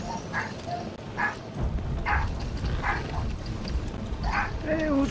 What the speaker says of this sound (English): You hear my puppy?